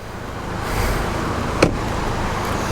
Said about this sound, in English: Both cars running, both cars pretty quiet for the most part.